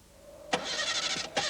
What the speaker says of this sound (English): Some cars often have trouble getting started and can often take some time to get going